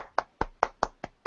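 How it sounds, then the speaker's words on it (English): One person clapping hands alone in a quiet room: six sharp, evenly spaced claps, close and fairly soft, each one dying away quickly before the next. "it's the one-hand clapping version of applause"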